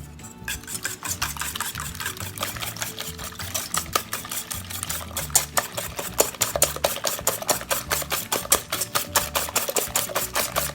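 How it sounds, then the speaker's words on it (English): A whisk beats eggs, sugar and salt in a bowl for crepe batter, making rapid, rhythmic metallic clicks and scrapes that stay steady and close throughout, with no talking. "And just mix that well."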